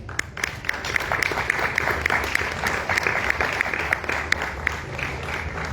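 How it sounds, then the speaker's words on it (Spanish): An audience at a book presentation for a poetry compilation breaks into steady, dense applause, many hands clapping together close by for several seconds without a pause. "la poeta hispano-mexicana Carmen Osal, para quien pida un aplauso."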